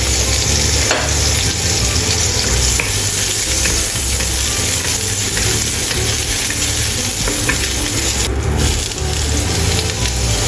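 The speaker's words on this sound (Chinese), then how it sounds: "葱白一起炒。" Ginger slices and scallion whites stir-fry in a hot wok, a loud, dense, continuous sizzle close up with rapid scraping and tossing throughout, and no voices.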